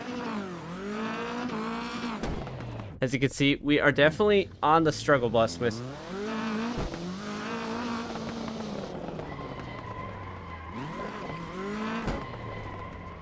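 Focus rallycross car drifting and sliding on a rallycross course in a simulator, engine droning with rising and falling revs and tires scrubbing through the slide, with someone talking over it throughout.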